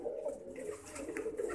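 A Teddy pigeon coos close by in a low, soft, repeated throaty murmur that continues steadily through the short moment.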